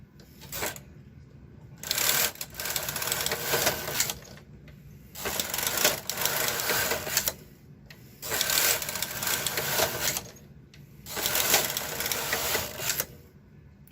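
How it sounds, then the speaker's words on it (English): A Silver Reed SK560 knitting machine with ribber knits through a punch card pattern: four rhythmic passes of the carriage, each a loud, dense mechanical clattering whir lasting about two seconds, separated by short quieter gaps. "now we're going to knit through the punch card twice"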